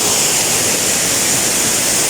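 Hidden waterfall at Gethsemane Falls, a continuous loud broadband roar of falling water, close and unbroken.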